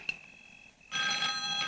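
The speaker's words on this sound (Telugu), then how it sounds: "ఇదేంటి ఫోన్ ఎత్తినా గానీ రింగ్ అవుతుంది?" A telephone rings in a comedy film scene. After a short quiet stretch, a bright, loud electronic ring starts and carries on steadily up close.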